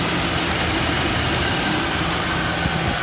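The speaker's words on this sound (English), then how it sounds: "Here's the engine." A 1996 Toyota Land Cruiser 80-Series engine idles steadily at close range, a continuous low rumble with a dense broadband hiss on top and no pauses over the short stretch.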